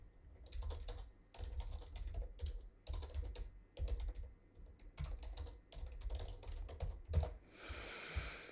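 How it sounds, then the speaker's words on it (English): Steady typing on a computer keyboard in a home office, bursts of quick clicking keystrokes close by with brief pauses between runs, ending in a short hiss of noise. "And let's write to Darren and Dr. Nick and make sure we're on for tonight."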